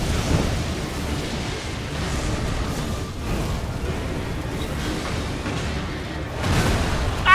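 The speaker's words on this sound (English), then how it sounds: "He can summon lightning everywhere!" A boss summoning lightning in the video game Elden Ring: continuous heavy rumbling thunder and crackling booms fill the scene, loud and close, swelling again near the end.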